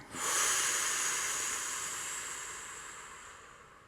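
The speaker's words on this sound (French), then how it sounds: "je souffle" A slow, steady exhalation during a relaxation exercise, close and breathy, rising quickly and then tapering gently over nearly four seconds with no talking.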